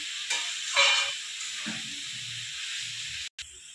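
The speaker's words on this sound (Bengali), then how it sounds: "হলুদ, লঙ্কার গুঁড়ো, জিরের গুঁড়ো আর কাশ্মীরি লঙ্কার গুঁড়ো দিয়ে 10 মিনিট আমি নেড়ে চেড়ে নেব।" Turmeric, chili, cumin and Kashmiri chili powder are stirred in a hot pan, giving a steady sizzling hiss with a few louder scraping swishes of the spoon near the start, close and continuous.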